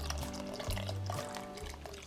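Cubed potatoes splash into a pot of boiling water for Brunswick stew, giving a short run of close, wet plops and bubbling.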